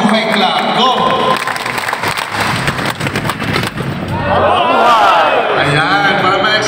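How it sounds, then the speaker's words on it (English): An audience at a tourism graduation ceremony gives a mabuhay clap, a loud burst of crowd clapping and cheering that swells in the second half, with an announcer's voice and music over the start. "Let's give her a mabuhay clap."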